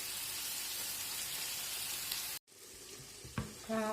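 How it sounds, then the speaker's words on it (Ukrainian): Steady loud sizzling of potatoes frying in a pan, continuous crackle, then a brief silence and quieter frying with a clink. "картопелька тут смажиться"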